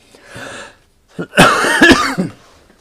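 A man coughs loudly and close to the mic, a short burst of coughing with a rougher throaty cough and throat clearing, in a casual home chat setting with no speech.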